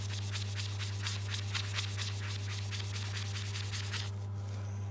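Steady rhythmic scrubbing of an Apple Watch sport band to lift dye transfer and stains, quick repeated rubbing strokes over a constant low electrical hum, stopping near the end.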